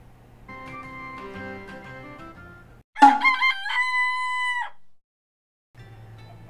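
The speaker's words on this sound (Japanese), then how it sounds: "鳥。" A single rooster crows loud and close, one long cock-a-doodle-doo, framed by soft synthesized music before and after with a brief silence.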